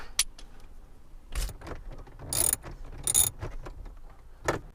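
Ratchet with a long extension working loose the bolts holding a Toyota Tacoma stereo, giving several short metallic clicking bursts and clatters spread across a few seconds, fairly close and alone.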